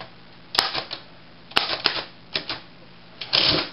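Underwood Number 5 manual typewriter typed in irregular bursts, sharp clacking keystrokes arriving in clusters with short pauses between, close and clear with no speech.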